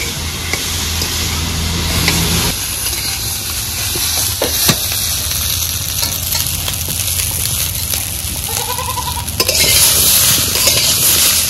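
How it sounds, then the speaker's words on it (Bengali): Green chillies fry with rohu fish and papaya in a pan, a loud steady sizzle broken by scraping stirs and a clink or two, close and without talk. "2-3 মিনিটের জন্য ভালো করে ভেজে নেব।"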